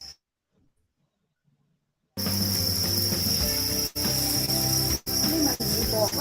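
Crickets at a cricket farm set up a loud, steady chorus of dense, high chirping that starts abruptly after two seconds of near silence and continues with a few brief dropouts.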